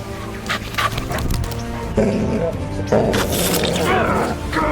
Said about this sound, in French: Le chien est de retour.